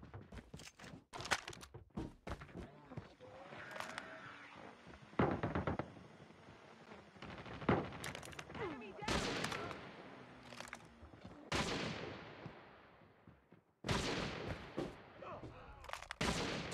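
Repeated gunfire bursts from Call of Duty Mobile multiplayer, sharp loud shots and thumps in clusters with brief pauses, plus game effects and occasional voice lines in between.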